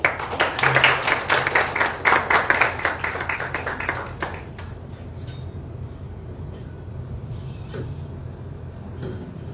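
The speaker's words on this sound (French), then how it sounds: "Sous vos applaudissements" Audience applause welcomes a speaker, the president of a Marseille mothers' association, at a Senegal–Comoros community event; clapping is strong at first, then thins to scattered claps and fades into room noise after about four seconds.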